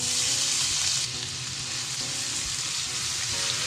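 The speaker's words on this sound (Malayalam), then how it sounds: "എണ്ണ നന്നായി ചൂടായിട്ടുണ്ട്. ഇതിലേക്ക് നമുക്ക് വെളുത്തുള്ളിയും മുളകും ചേർത്ത് കൊടുക്കാം." Garlic and chilli dropped into hot oil for Thai basil chicken, a loud dense sizzle that stays strong and even throughout, easing slightly after the first second, with no voices.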